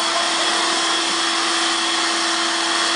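A household vacuum cleaner running steadily at home, a loud, constant whirring drone with a fixed pitch that never changes for the whole stretch, with no voices.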